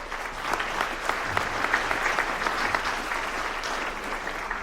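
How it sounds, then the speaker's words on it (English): Audience at a school alumni and athletic hall of fame induction ceremony giving a sustained round of applause for a senator's representative, dense steady clapping from many people in a hall, fairly even throughout. "Let's give them a round of applause."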